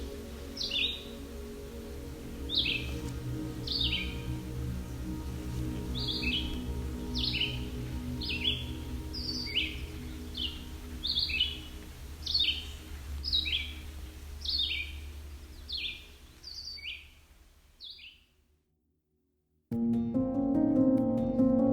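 Birdsong on the Bruce Peninsula, Ontario: a single bird repeats short, high, chirping phrases at a steady pace over a low hum of background noise, then a brief silence and a cut to another low sound.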